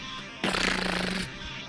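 Submachine shotgun firing in VRChat: a single rapid, rattling burst of just under a second, loud and close, starting abruptly and cutting off cleanly.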